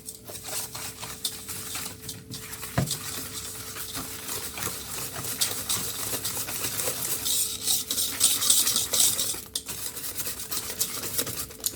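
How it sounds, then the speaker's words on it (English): Hand whisk mixing carrot cake ingredients in a bowl, a continuous close scraping and tapping of metal against the bowl, with a brief sharp knock partway through and no talking. "I'm just going to whisk everything together"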